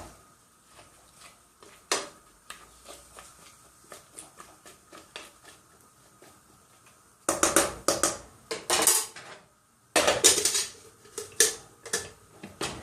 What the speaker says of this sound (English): I'm just going to stir that in so that all the vegetables are mixed in there with the beans